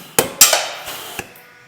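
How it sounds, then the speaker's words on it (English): A Huck gun pulls tight and snaps off a Huck rivet on a Peterbilt 359 restoration, giving a few sharp, close metallic cracks and thumps spaced out over a second or so. "you simply grab the Huck gun and pull the trigger, and it's going to pull this guy tight against the outer skin"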